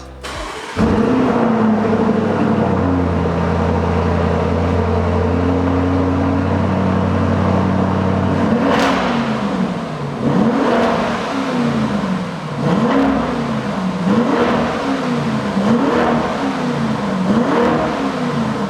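Lamborghini Urus with a stock exhaust and 4-litre biturbo V8 idling deeply, then revved in a series of sharp, rhythmic blips, loud and close with no talking.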